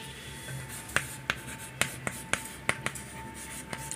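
An equation being written on a board, heard as a run of sharp, close taps and clicks in an irregular rhythm over a quiet, faint hum.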